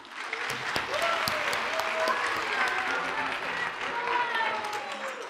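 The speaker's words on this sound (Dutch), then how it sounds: "Applaus!" Pupils and onlookers at a junior dictation contest in Rijssen-Holten give a burst of steady, fairly close applause that holds evenly throughout, with voices faintly audible beneath it.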